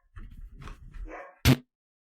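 A dog in an audio drama gives a few low, gruff growling noises, then a single loud, sharp bark near the end, followed by silence.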